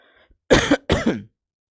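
A teacher with a sore throat gives two sharp, close coughs that roll into a rough throat clearing, loud and abrupt against near silence.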